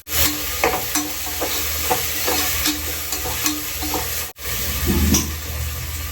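Ginger and garlic sautéing in a pan with chopped coriander and mint, giving a steady close sizzle broken by repeated scrapes and stirs, with a brief cut near the end.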